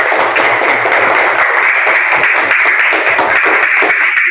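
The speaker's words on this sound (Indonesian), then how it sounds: "berikan tepuk tangan yang meriah" A crowd applauds with dense, steady clapping that holds at a loud, even level throughout.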